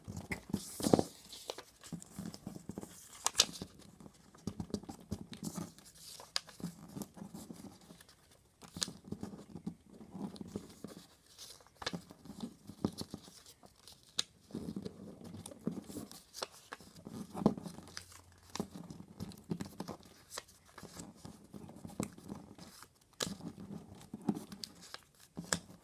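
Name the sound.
folding paper the short way for a paper butterfly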